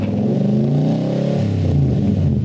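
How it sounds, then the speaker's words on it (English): Loud, close engine revving from a loaded 2012 Nissan NV 3500 van fitted with a MagnaFlow exhaust, a deep droning note rising and easing back with no talk. "MagnaFlow exhaust"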